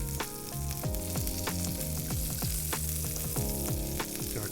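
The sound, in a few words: salmon fillet frying skin side down in butter oil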